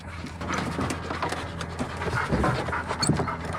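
A short-haired hunting dog at a duck pond pants rapidly and steadily up close, with soft rustling around it.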